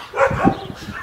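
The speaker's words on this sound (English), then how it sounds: "that dog's barking" A single dog gives one short bark with a brief follow-up yelp outdoors in Calumet City, Illinois, fairly close and clear.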